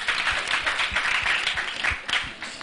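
A classroom of students clapping together for a classmate, a brisk burst of many hands applauding close by with uneven rhythm, lasting a few seconds.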